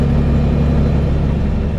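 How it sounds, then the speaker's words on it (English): A big truck's engine drones loud and close with a deep, steady low rumble as it strains to pull away from a dead stop in traffic. "There's a truck right here trying to get over"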